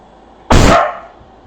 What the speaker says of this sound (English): My dog is starting to get restless again